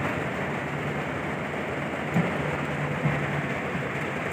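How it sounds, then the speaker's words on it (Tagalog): Dense, steady roar of heavy rain pouring down without a break on a road trip in Laguna, with a faint low hum beneath and no voices. "sobrang lakas ng ulan"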